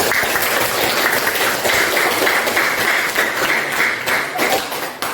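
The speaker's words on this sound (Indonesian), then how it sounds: "berikan tepuk yang paling meriah" Applause from a class of elementary school students at a state primary school in Jakarta, a dense steady clatter of many hands filling the room for about five seconds with no talk over it.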